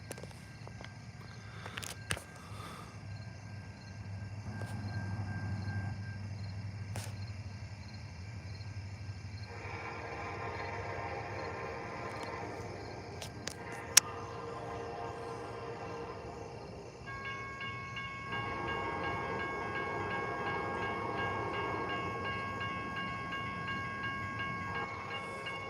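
A CN freight train passes at night on the Flint Sub, a long rolling rumble of railcars with sharp clanks and squeals, distant horn-like tones sounding partway through, all fairly faint and steady.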